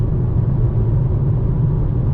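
A rented brand-new car driving through traffic, with a steady loud low engine rumble and road noise from inside the cabin, no talk.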